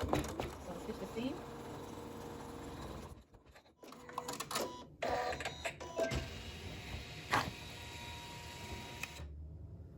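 A sewing machine runs a quarter-inch seam through quilting fabric, a steady mechanical whir that holds near and fairly loud, breaks off for a moment in the middle, then continues with some clicks before stopping.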